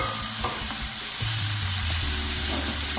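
Chicken sizzles in a pan with softened onion and tomato, a steady close frying hiss broken by a few scraping stirs and clinks over three seconds.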